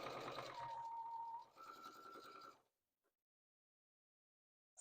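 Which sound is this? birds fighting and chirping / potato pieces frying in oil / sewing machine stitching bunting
sewing machine stitching bunting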